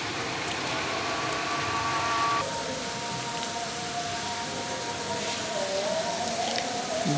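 Light rain falls outdoors, a steady, close hiss and patter that keeps going the whole time with no voices.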